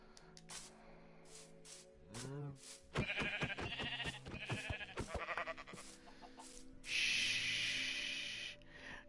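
Sheep bleating in the Minecraft video game, a short wavering bleat among layered game sounds and clattering effects, with a player's voice faintly present in the mix.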